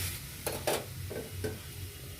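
A spatula stirs food frying in a wok seasoned with salt and turmeric, giving a few distinct scraping strokes over a soft, continuous sizzle, quiet and close, with no talking.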